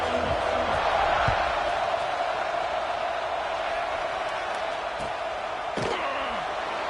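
Football stadium crowd at a college game against Kentucky roars steadily after a scoring drive, a dense, loud, sustained wash of cheering with scattered shouts and a sharp thud near the end.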